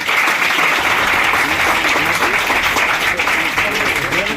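A large crowd at a motivational talk on Indian history breaks into loud, sustained clapping, a thick continuous roar of many hands that keeps an even intensity throughout without speech.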